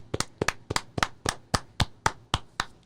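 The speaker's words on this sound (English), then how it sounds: "Claps for Monty, claps for Chad, claps for Zach, claps for Chapman." A few close, sharp hand claps land in a steady rhythm, roughly ten in under three seconds, dry and distinct with no other sound, as a small group claps for baseball players.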